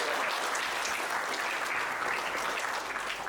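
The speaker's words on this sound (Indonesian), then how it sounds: "Tepuk tangan untuk wanita Indonesia." Steady applause from an audience at a student gala meet-and-greet, honoring Indonesian women; dense, continuous clapping at even loudness throughout, with no voices standing out.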